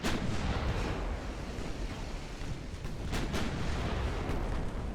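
Naval warship guns fire in the Ultimate Admiral Dreadnoughts battle game: a dense, continuous roar of booming salvos, with a few sharper cracks standing out near the end.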